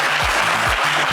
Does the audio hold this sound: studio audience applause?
yes